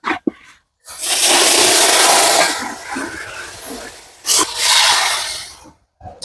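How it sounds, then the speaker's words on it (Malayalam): Water is poured into browned, spiced masala in a pan for a Kerala-style fish head curry, giving two sustained rushing, hissing pours separated by a brief pause, close and fairly loud, with short clicks at the start and end. "അപ്പോൾ നമുക്ക് ആവശ്യമായ വെള്ളം ഒഴിച്ചു കൊടുക്കാം."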